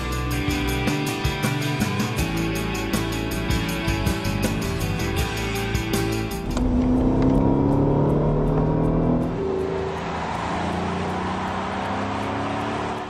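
A Mercedes S63 AMG engine pulls hard under acceleration, its loud rising roar broken by a sharp gear shift partway through, then building again with a raspy, metallic tone before easing at the end.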